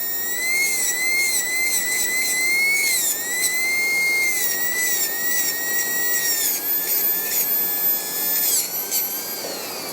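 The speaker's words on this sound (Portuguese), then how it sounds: "A rotação da broca bem baixa." A low-speed dental bur whines steadily while grinding a tooth during a metal overlay preparation, its high pitch drifting up and down as pressure changes, loud and continuous with no voices.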